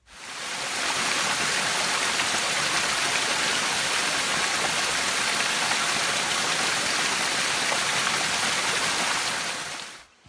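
Steady rain falls on a morning along the Appalachian Trail near a shelter, a loud, even hiss of drops that holds constant throughout before cutting off at the end.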